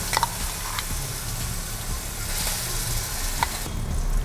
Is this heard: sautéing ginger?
yes